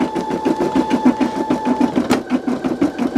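A home embroidery machine stitches an in-the-hoop Christmas ornament, its needle chattering in a fast, steady rhythm with a constant motor whine, ending in a brief sharp click.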